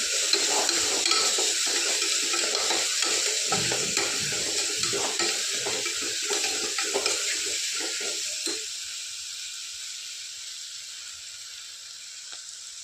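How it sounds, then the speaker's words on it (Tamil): Carrots and beans sautéing in an oil-filled pan for vegetable biryani, a steady close sizzle with a stirring spatula scraping and clattering through the first eight seconds, then a quieter, even fry hiss. "கேரட், பீன்ஸு சேர்த்துக்கலாம். நல்லா வதக்கி விட்டுடலாம்."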